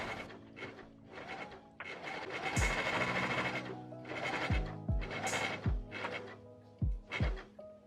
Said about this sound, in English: I'm going to sew a basting stitch, which is just long stitches